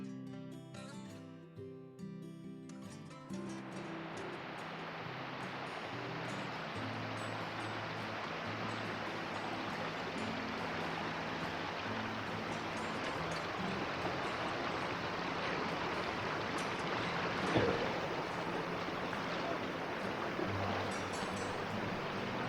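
Rushing water from a waterfall on the Manulot hike in Matura, rising after a few seconds into a loud, steady, close roar that fills the rest of the stretch without a break.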